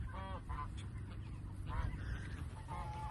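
Two young geese honk on a pasture poultry farm, several short nasal calls in quick bursts at moderate distance, with low background rumble and a voice briefly heard.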